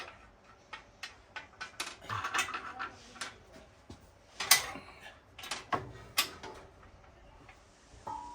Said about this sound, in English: So what we're going to do here, just loosen these cams off.